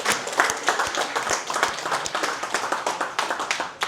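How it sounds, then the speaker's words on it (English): A conference audience in Sydney claps for a guest speaker, a crowd of sharp individual hand claps forming steady applause, close and moderately loud, with no talking. "Can we give a clap to Manda for coming down?"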